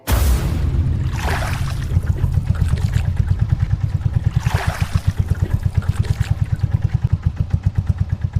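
A motor boat sets off on a river in the Sundarbans, its engine chugging in a steady, loud, close rhythm with splashing water and occasional rushes of spray.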